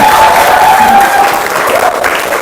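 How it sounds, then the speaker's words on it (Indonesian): A classroom of students bursts into loud, dense applause that holds steady, with some voices mixed in. "Tepuk tangan buat Najbar."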